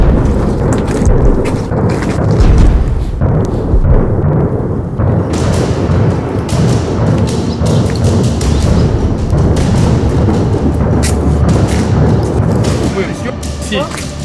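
Loud, continuous rumbling with dense booming blasts and crackling bursts of heavy gunfire and explosions near Kherson, overlapping without pause, a heavy, chaotic barrage throughout.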